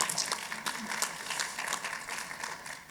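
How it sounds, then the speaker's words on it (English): Steady audience clapping in a hall at a university state-of-the-university event, a continuous wash of many hands with a few louder claps and faint voices mixed in. "you can clap,"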